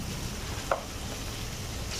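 Small 200-gram chicken pieces frying in a kadai give a soft, steady sizzling hiss throughout, with one brief clink partway through.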